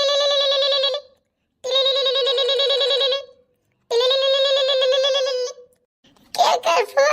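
A phone rings in three long electronic trilling bursts separated by short pauses, clear and close, followed by a brief burst of voices at the end.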